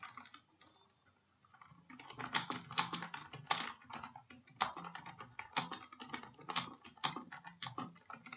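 Quiet, close typing on a computer keyboard while writing an email, keys clicking in irregular quick bursts after a near-silent start, with no voices.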